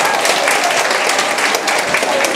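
Audience at a live Korean exam-prep lecture giving a brief, dense burst of applause, loud and continuous with no pauses.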